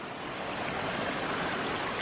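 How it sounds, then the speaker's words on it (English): Partly frozen mountain stream with ice over the water, still running below snow-capped Himalayan peaks: a steady, soft, close rushing and gurgling of water with no voices. "The frozen stream. Well, it's still running."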